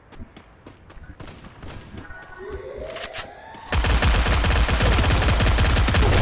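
Counter-Strike gunfire: scattered clicks and lighter shots and a rising whine give way to a sudden, loud, sustained automatic burst that holds steady as rapid-fire shots to the end.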